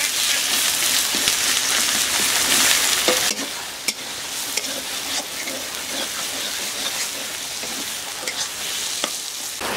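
Cumin and chili paste fry in a pan for a country chicken gravy, making a loud, steady sizzle that drops in level partway through and is then broken by scattered stirring scrapes and taps.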